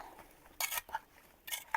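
A spoon scrapes against a metal saucepan twice, two short rasping strokes, fairly quiet.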